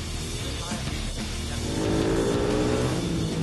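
A speedway motorcycle revs hard as it accelerates into a corner, the engine note rising and growing louder over a few seconds, close and alone without talk.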